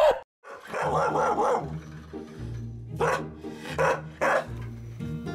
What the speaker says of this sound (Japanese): 元気なワンちゃん。